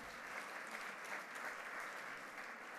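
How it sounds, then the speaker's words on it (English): Audience applause for a stage manager at a Celebration of Leaders 2019 event, heard as steady, dense, quiet clapping from a crowd that holds level throughout, with no voices over it. "Give her a round of applause."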